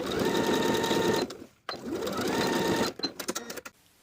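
A sewing machine stitches closed the opening in an athletic shorts waistband with elastic inside, running in two steady bursts of about a second each, separated by a short pause, then a few loud clicks and taps.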